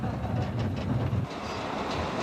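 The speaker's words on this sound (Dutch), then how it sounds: "In deze verkeersaders vindt het eerste deel van het transport plaats per trein." An underground coal mine train rolls through a haulage tunnel, rumbling with a rhythmic clatter of wheels on rail at moderate volume, then dropping to a lower steady drone.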